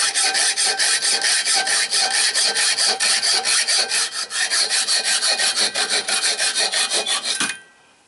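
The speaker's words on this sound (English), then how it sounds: "Now I'm just using a metal cutting hacksaw here." A metal-cutting hacksaw cuts through threaded rod in steady, rapid back-and-forth rasping strokes, loud and close, running continuously before stopping abruptly near the end.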